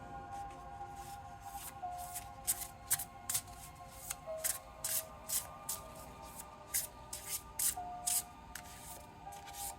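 Tarot cards being shuffled by hand, a steady rhythm of soft, close riffling swishes repeating for several seconds.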